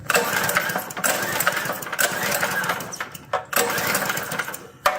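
A motorbike engine cranked over with no fuel reaching the cylinder, giving a steady, loud mechanical churning for several seconds with a few brief breaks between pulls.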